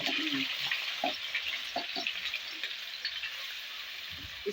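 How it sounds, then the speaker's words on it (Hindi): Chopped onions frying in hot ghee for a fish masala curry, a steady soft sizzle with scattered clicks and light stirring knocks throughout. "ये देखिए, घी गर्म हो चुका है। अब हम इसके अंदर प्याज ऐड कर देंगे,"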